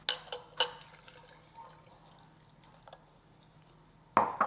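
Homemade coffee is poured into a cup of ice, with a few clinks and splashes at the start, a quiet trickling stretch, then a brighter burst of pouring near the end.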